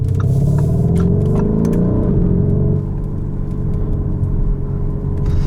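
A 2019 Lamborghini Urus driving, its engine giving a deep, steady rumble from inside the cabin with a rising whir that eases off partway through.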